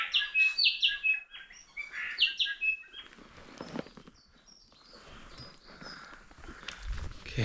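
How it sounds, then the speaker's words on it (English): Birds chirping and singing outdoors on a forest walk near waterfalls, bright quick trills close by in the first few seconds, then fainter calls over soft rustling and footsteps. "Beautiful bird sounds."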